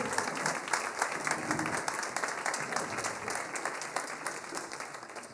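At an autumn concert of a municipal wind band, the audience applauds as the president walks onto the stage, many hands clapping in an even, moderately loud wave that carries on steadily throughout.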